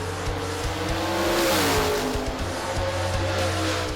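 Top Sportsman drag racing cars, including a Mustang, roar at Sydney Dragway with loud, sustained engine noise that rises to a peak midway and then holds at a high, rumbling pitch.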